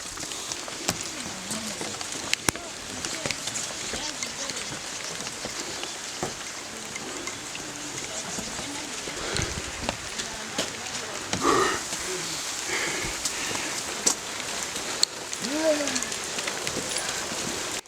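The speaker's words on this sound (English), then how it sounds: "it's rainy. I hope it's not rainy like this every day." Steady rain in Uganda, near Lake Bunyonyi, patters and hisses throughout, with scattered drips and taps, close by and fairly even in loudness.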